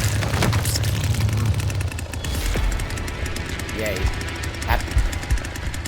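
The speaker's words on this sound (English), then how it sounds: "Look at my fucking chainsaw!" A chainsaw in the Texas Chainsaw Massacre video game runs with a rough, rattling buzz, revving in bursts amid thuds and other game noise while a person speaks briefly over it.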